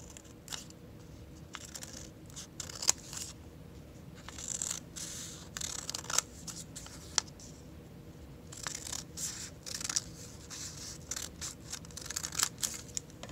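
Scissors snipping through folded paper to cut a large snowflake, a series of quiet, close, crisp cuts and rustles at an uneven pace.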